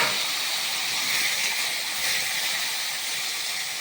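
Panch phoron spices tempering in hot oil produce a loud, close, steady hissing sizzle that stays even throughout, with no voices.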